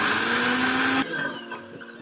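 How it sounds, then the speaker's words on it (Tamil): A small mixer grinder grinding roasted spices whirs loudly at high speed for about a second, then cuts off and spins down with faint rattling. "ஒரு குட்டி சைஸ் மிக்ஸி ஜாடியில் நம்ம வறுத்து வச்சுருக்க அந்த 3 ஐட்டங்களையும் சேர்த்து நல்லா அரைச்சி எடுத்துக்க போகிறோம்"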